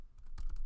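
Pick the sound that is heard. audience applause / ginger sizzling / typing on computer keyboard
typing on computer keyboard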